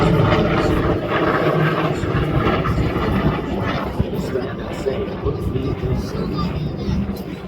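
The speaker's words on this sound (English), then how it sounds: "Because the sound of these airplanes will soon fade." Vintage warbird propeller aircraft engines drone loudly and continuously at an air show at MCAS Miramar, a broad roaring hum that swells slightly as planes pass overhead, with faint crowd noise beneath.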